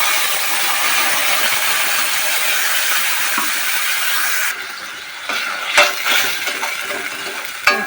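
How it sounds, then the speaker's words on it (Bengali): Masala paste for spiced aubergine frying in the leftover oil after the aubergines were fried, a steady broad hiss for several seconds, then quieter with scattered clinks and scrapes of a spoon against the pan. "আমরা ভালো করে ভেজে নেবো"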